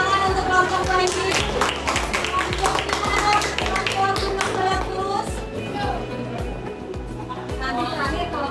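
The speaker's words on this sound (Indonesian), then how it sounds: "Tepuk tangan untuk kelompok banjir." Classroom applause for a student group, a dense burst of many hands clapping close by, strong at first and thinning gradually toward the end, with voices mixed in.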